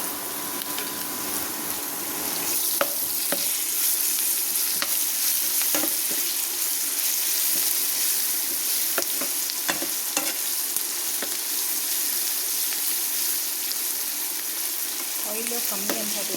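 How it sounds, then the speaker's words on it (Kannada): Green chilli paste sizzles steadily in hot oil in a pan for khara churmuri, a constant close frying hiss broken by scattered spoon scrapes and taps as it is stirred. "ಸ್ವಲ್ಪ ನೀಟಾಗಿದ್ದು ಎಲ್ಲ ಫ್ರೈ ಆಗಲಿ. ಇದಕ್ಕೆ ಒಂದು ಸ್ಪೂನಷ್ಟು ಹಸಿ ಖಾರ ಆ್ಯಡ್ ಮಾಡ್ಕೊತೀನಿ."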